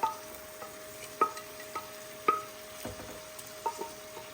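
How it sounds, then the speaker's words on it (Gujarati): Boiled chana dal, poured in with its cooking water, goes into cooked spinach in a pan, followed by a steady low sizzle and several sharp spoon clinks and stirring knocks at uneven intervals, close up. "તો હવે મેં આની અંદર નાખી દીધી છે બોઇલ કરેલી ચણાની દાળ."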